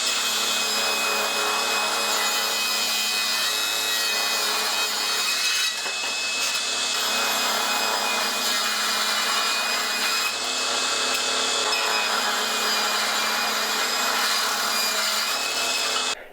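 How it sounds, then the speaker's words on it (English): A saw cuts the rough edge off a wooden board for an end grain cutting board, a loud, continuous close whine of blade through wood holding steady for about sixteen seconds with no voices. "First thing, let's go ahead and cut off this rough edge."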